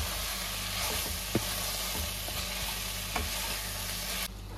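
Five or six whole Kashmiri red chillies fry in hot oil in a pan, giving a steady close sizzle with a few scraping stirs and clicks, ending abruptly.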